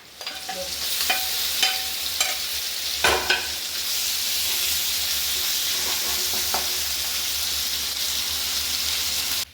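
Kozhuva fish frying in hot oil in a Chalakudy-style home kitchen: a dense, continuous sizzle with a few sharp clinks and scrapes of stirring near the start, steady and close, with no voices.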